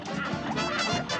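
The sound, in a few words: person imitating a duck quack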